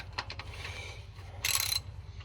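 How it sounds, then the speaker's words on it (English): A ratchet loosens the oil drain plug bolt on a 2005-10 Chrysler 300 or Dodge Magnum/Charger, giving a few quick clicks, then a brief louder burst of rapid ratcheting, close and without speech. "Now that the bolt's broken, gonna loosen it up a little bit more."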